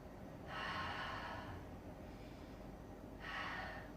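Slow, deep breaths during a summer yoga session: two long, soft breathy swells with a quiet pause between them, close and gentle over a faint steady background.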